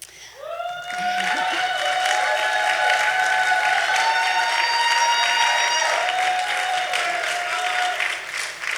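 Crowd applause for the caterer at an African fashion show in Portland, starting after a brief pause and swelling into sustained clapping with some cheering, steady for several seconds before easing slightly.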